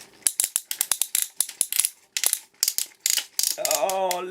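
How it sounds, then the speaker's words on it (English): Ratcheting joint of a Transformers Beast Hunters Optimus toy being worked by hand, giving a quick series of sharp, close plastic clicks in uneven bursts, ending in a brief squeaky grinding sound. "Old school Ratchet. Kind of poppy clicky."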